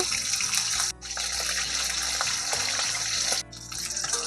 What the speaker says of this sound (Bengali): মাছগুলো আমি উল্টিয়ে পাল্টিয়ে একটু ভালোভাবে ভেজে নেব।